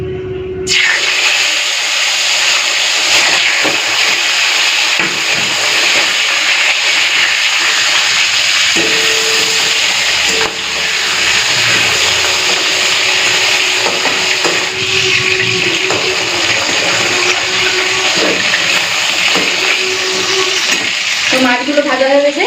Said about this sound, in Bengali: তেলটা ভালো মতো গরম হয়ে গেছে এখন এক একটা করে মাছ ভেজে নেব